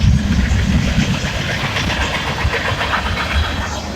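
A KCS and Norfolk Southern freight train rolls past close by, a loud rumbling rush with rhythmic clickety-clack of wheels over rail joints, steady throughout with no talking.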